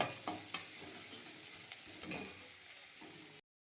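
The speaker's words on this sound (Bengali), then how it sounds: "পেঁয়াজটা আর রসুনটা আর কাঁচা লঙ্কা এর সাথে ভালো মতন এটাকে ভেজে নেব" Chopped onion, garlic and slit green chilies fry in a kadai, a quiet, even sizzle under scattered utensil scrapes and taps as they are stirred, with no voices.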